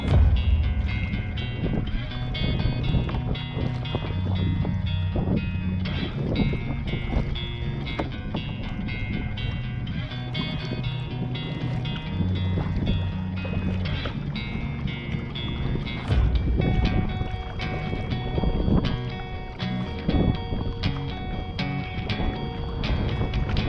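A canoe paddled along the windy Shuswap Lake shoreline past boats, with steady wind rumble on the microphone, soft water swishes and occasional knocks of the paddle throughout.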